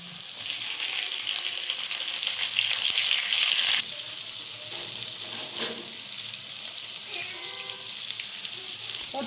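Garlic, ginger, tomato and green chili fry in a hot pan, a loud steady sizzle that drops sharply partway through as the wet tomato goes in, then continues more softly with occasional stirring scrapes.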